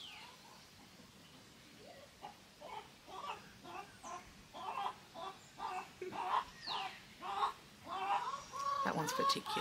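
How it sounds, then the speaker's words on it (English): Chickens wandering on a grassy area below a balcony cluck in a run of short repeated calls that grow louder and closer toward the end, over quiet outdoor background. "That one's particularly clucky."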